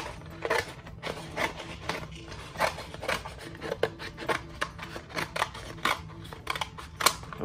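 Scissors trim excess paper from a water bottle rocket's paper nose cone, giving quiet, close snips and rustles in an uneven rhythm.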